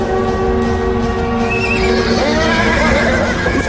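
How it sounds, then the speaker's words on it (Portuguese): Horses neigh loudly in an audio drama effect, a shrill whinny rising over a continuous rumble of galloping hooves, close and dense throughout. "Os cavalos partiram em disparada, saindo pelos portões e cavalgando em volta da fortaleza."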